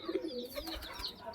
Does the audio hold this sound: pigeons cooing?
yes